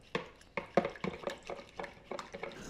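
Sugar-free Greek yogurt is stirred into a jello dessert mixture in a bowl, giving a quiet, close run of soft, irregular scraping and tapping strokes roughly every quarter second.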